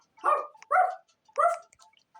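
A dog barks three times in close, loud, separated yelps indoors, with faint small sounds in between.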